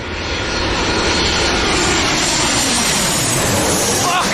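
A plane passing overhead with a loud, sustained engine roar that fills the air and lingers steadily, with faint voices underneath.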